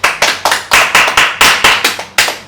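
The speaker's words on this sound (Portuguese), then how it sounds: "Uma salva de palmas, Toguro." Podcast hosts clapping their hands during a talk show debate, about ten sharp, loud, close claps in a quick, fairly even rhythm, each ringing briefly in the room, with no talking.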